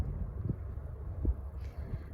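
Soft, steady, cold wind rumble at sunset in Po Shan Mid-Levels, Hong Kong, fills the quiet scene, with a few faint low thumps and no talking.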